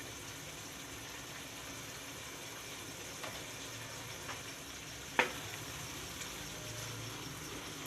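Mutton mince with spices fries in a pan, a faint steady sizzle running throughout, broken by a few soft stirring scrapes and one sharp clack of utensil against the pan.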